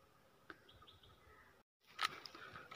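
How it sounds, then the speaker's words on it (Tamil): Unusual bird calling from a forest near Ooty, a few faint, short chirps and whistled notes at a distance, broken by a brief silence and followed by a louder burst of calls over soft woodland background. "இது ஒரு வித்தியாசமான பறவையாக இருக்குது"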